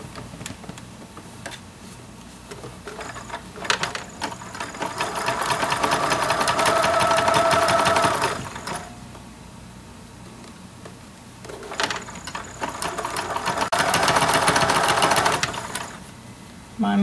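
A sewing machine stitches cording onto a quilt in two steady runs of fast mechanical whirring and ticking, separated by a pause with quieter handling sounds, close and loud.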